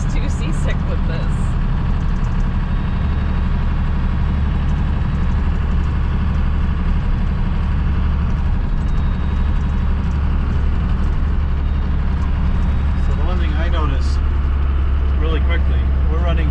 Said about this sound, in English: we're running 50-55 on a back road in high gear